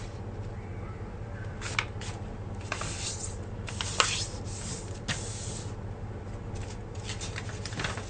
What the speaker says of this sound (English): Fold diagonally